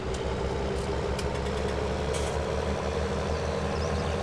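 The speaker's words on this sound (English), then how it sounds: "Let's see how this tractor copes." Tractor engine running steadily at a low idle-like drone, a constant near rumble with no breaks and no talk, on a farm where direct drills are being brought back to the yard.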